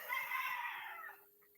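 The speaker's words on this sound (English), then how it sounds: "Those are roosters crowing in the background." A single rooster crows faintly in the background, one drawn-out call that fades away.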